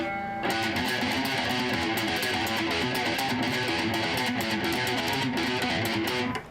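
Dry, clean electric guitar playing sustained chords and notes, steady and fairly loud with no audible echo or reverb.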